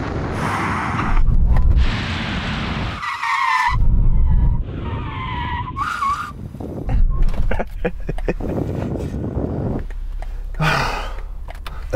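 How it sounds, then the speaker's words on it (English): BMW braking hard with failed ABS during a drag race, tyres skidding in repeated loud screeching bursts as the brakes are applied and released, over engine noise. "So my driver was having to brake, then lift off and brake and lift off."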